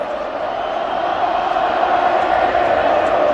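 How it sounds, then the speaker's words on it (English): Collingwood supporters chant together across a packed football stadium during the 2022 round 21 match against Melbourne, a steady, distant roar of massed voices that swells slightly and never breaks. "The Collingwood chant is ringing around this mighty Coliseum"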